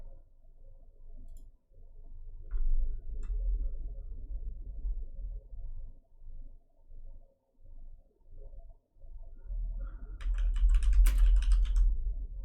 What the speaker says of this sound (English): we're just gonna keep typing out player names